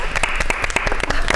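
Applause at a town school committee meeting after a new chair is elected, with many hands clapping densely and steadily at close range for the whole stretch.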